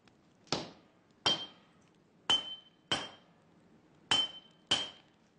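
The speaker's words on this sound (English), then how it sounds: "Heat from the forge and constant hammering flatten the pieces into the building blocks of the new weapon under Gassan's watchful" Steel for a new katana is struck on an anvil at a swordsmith's forge, six sharp ringing hammer blows arriving in irregular pairs, each with a bright metallic ping that decays quickly, loud and close with no talk.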